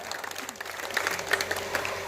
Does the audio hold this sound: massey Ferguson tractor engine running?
no